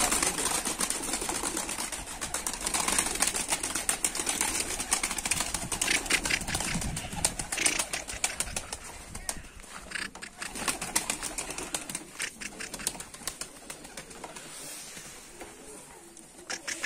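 Pigeons kept in a coop, with soft cooing and wing flutters over a steady mechanical hum, continuous and fairly close throughout, with light background activity.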